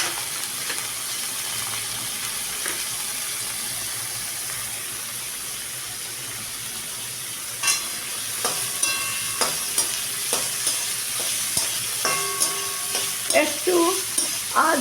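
Onion and chopped garlic sizzle steadily in hot oil for a prawn curry, close and continuous, joined in the second half by repeated scraping stirs of a spatula against the pan.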